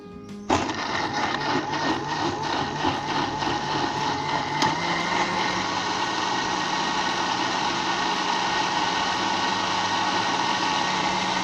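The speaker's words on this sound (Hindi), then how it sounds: "ये ब्लेंडर में डाल दें आप, फिर इसे पीसते हैं" A blender starts abruptly and grinds apricot chutney steadily at high speed, a loud continuous whir with a motor hum that holds without a break.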